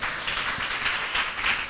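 Steady applause from a church congregation during a sermon, a dense, even wash of many hands clapping that holds at a constant level for its brief span, with no voices on top.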